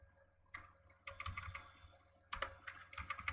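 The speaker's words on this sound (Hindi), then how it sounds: "इसे मैं यहाँ पर टाइप कर रहा हूँ" Typing on a computer keyboard while entering an IP address and filename into a browser, heard as bursts of close, quick key clicks separated by short pauses, with a low steady hum underneath.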